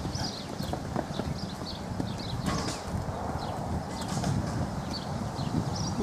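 Hooves of a chestnut Quarter Horse cross clip-clop steadily forward at a walk, close and continuous, with faint birdsong above and no voices.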